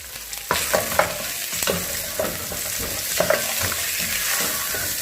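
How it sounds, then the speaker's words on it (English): Onions and dhania (coriander) stalks frying in a pan for a goat wet fry, giving a loud, continuous sizzle broken by frequent stirring scrapes and clacks, with no talking. "As the onions are getting cooked, you add in the dhania stalks."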